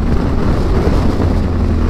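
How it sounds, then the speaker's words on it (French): Loud, constant low roar of strong wind buffeting the microphone near El Menia, Algeria, dense and unbroken for a couple of seconds, with no speech. "Et il y a pas mal de vent"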